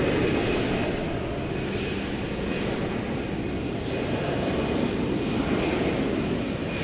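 A jet airliner takes off on runway 18 left at DFW Airport at night, bound on a 6,600-mile flight to Nadi, with a loud, steady, broadband engine roar filling the whole stretch, no voices heard.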